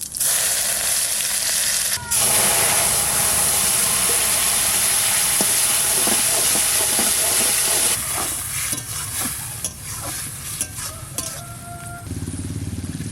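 Radhuni spices and garlic cloves crackle and sizzle in hot oil as a tempering for a fish curry, a loud, dense, continuous frying hiss close up, with scattered pops and a slight shift near the end.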